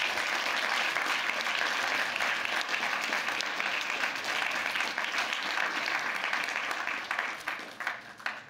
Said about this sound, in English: Please applaud to all the volunteers from the competition.